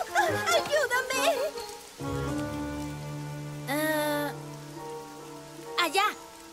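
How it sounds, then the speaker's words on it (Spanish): Steady rain falls in an animated My Little Pony episode in Spanish, a continuous wash of patter under bursts of excited cartoon voices. "¡Cúbrete de la lluvia mientras yo termino!"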